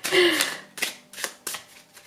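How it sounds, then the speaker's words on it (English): Tarot cards being shuffled by hand in a series of soft riffling bursts about half a second apart, near and fairly quiet, with a faint voice at the start. "I don't know why my shuffling skills just do not improve over the years"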